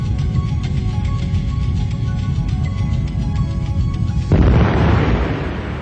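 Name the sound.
BLEVE boiling liquid expanding vapor explosion of a fuel tank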